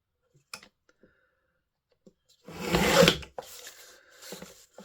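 Paper trimmed down to just under 4 1/4 by 5 1/2 inches to make a card tag: one close rasping cut lasting under a second, with a few light clicks and taps before and after.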